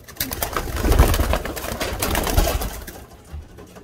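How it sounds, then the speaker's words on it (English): Racing pigeons in a breeding loft give soft, low cooing and shuffling sounds close by, rising and falling over a few seconds before fading toward the end. "Let me catch that bird that Isselhart likes."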